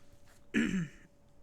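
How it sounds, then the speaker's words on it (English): A single throat clearing during a tabletop role-playing game session, a short rough burst lasting about half a second, close and fairly loud against a quiet room. "I'm clearing my throat."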